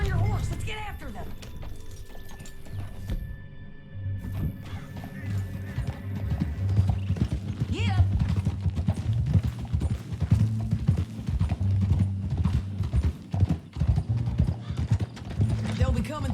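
A horse gallops steadily through Red Dead Redemption 2, its hooves drumming in a rapid continuous beat with a whinny early on, while characters talk over the ride.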